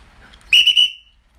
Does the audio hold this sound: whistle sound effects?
yes